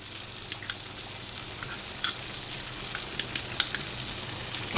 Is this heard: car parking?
no